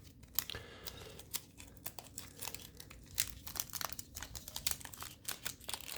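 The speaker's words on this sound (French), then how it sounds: "On va glisser une petite lame pour les ouvrir." Thin card booster packs are slit open with a small blade and their wrappers crinkle and tear, producing soft, close crackling and rustling with no voices.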